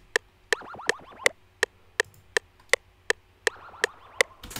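One-shot accent sample processed with Valhalla Vintage Verb reverb and EQ: about a dozen sharp, evenly spaced clicky hits in a steady rhythm, each trailed by faint airy swooping reverb tails.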